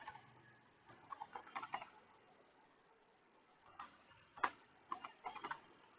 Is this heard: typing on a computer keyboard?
yes